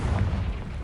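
A Confringo fire spell explodes in Hogwarts Legacy as a short, loud, rumbling blast with a dense low boom that stays heavy for under a second.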